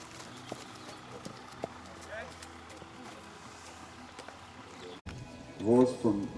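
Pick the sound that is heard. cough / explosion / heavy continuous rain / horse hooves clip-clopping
horse hooves clip-clopping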